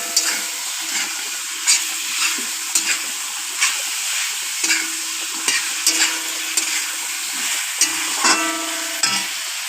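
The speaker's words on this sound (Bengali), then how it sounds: "মশলাটার মধ্যে মাংসগুলো দিয়ে ভালো করে কষিয়ে নিচ্ছি।" Meat stirred and fried in a spice mix for biryani: a continuous close sizzle broken by regular scraping stirs, about one every second, with no talking.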